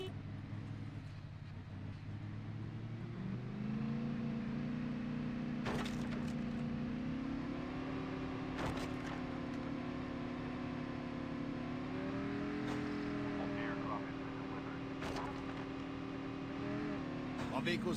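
Vehicle engine in the Call of Duty Mobile battle royale Blackout map, a steady droning hum that climbs in pitch as it accelerates and holds near and continuous, with occasional sharp impacts and a voice talking over it.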